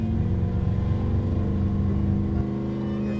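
A steady, loud low engine drone from a 1500bhp 1973 Chevrolet Caprice Donk, holding a constant rumble throughout with no clear rise in pitch.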